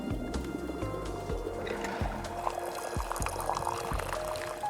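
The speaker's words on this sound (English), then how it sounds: "Here we go, perfect pour." Tea pours in a cozy video game, a steady trickling stream of liquid with light splashes set against soft game music.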